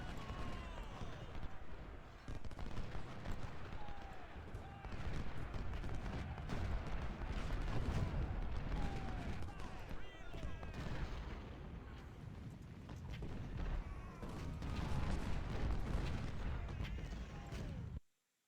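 Cannon and artillery fire in the Civil War strategy game Ultimate General: Civil War at the Second Battle of Bull Run, a dense, continuous barrage of booms and gunfire with a busy battlefield din throughout.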